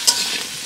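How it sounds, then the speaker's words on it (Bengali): Potato pieces fry in hot oil in a kadai while being stirred, a steady close sizzle with two sharp scraping strokes of the spoon, no voices. "গরম তেলের মধ্যে আলুর পিসগুলো দিয়ে দিচ্ছি। এখন আমি খুব সুন্দরভাবে নেড়ে চেড়ে নিচ্ছি"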